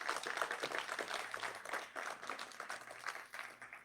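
Faint, distant applause from an audience at a keynote event honouring athletics leadership, a steady wash of many hands clapping without breaks.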